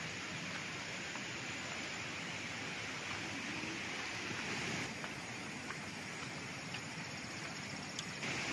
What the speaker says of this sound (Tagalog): Ito na yung ilog mga kaprops.